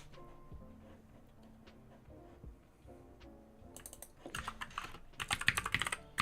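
Typing on a computer keyboard during web development work, with steady quiet key taps that become louder and denser bursts of clicking toward the end, close and alone without talk.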